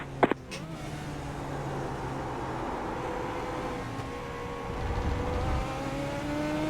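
In a racing video game, a car engine drones steadily with a rising and falling whine as it shifts. A short click comes near the start, and no one speaks.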